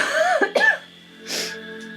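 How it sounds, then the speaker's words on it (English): A couple of short, close coughs or throat-clearing sounds from a single person, followed by a breathy exhale in an otherwise quiet room. "we got a cough"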